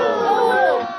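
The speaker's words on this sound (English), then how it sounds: "And the crowd goes wild." Crowd at an outdoor bird show with a peregrine falcon, hawk, vulture and owl erupts in a loud burst of cheering and excited shouting, dense and sustained for the whole moment.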